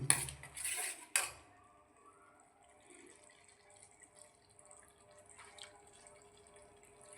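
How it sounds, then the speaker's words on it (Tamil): Coconut milk goes into an onion, fenugreek and tamarind curry, with a short splashy pour and clinking stir up front, then quiet, faint scraping and drips. "தேங்காய் பால் கொஞ்சம் ஊற்றிக்கலாம் ஒரு அரை டம்ளர் அளவுக்கு"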